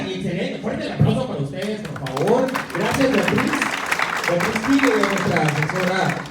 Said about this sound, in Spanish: Fuerte el aplauso para ustedes, por favor.